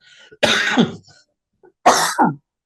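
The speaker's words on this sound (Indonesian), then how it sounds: "Saya masih ada batuknya ya" Two separate bursts of coughing and throat clearing from one nearby person, each a harsh rasping rumble, separated by a second of near silence.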